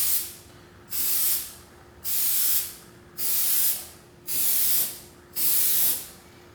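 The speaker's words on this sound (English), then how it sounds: "I'm just going to do an overlapping spray paints on it." Aerosol spray paint hisses onto a Honda car headlight in six evenly spaced bursts of about a second each, close and loud, with quiet gaps between passes.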